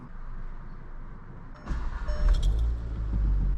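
Car engine running on E85 fuel after a switch from 91-octane, revving lightly as the gas pedal is tapped, giving a low rumble that swells in uneven pulses.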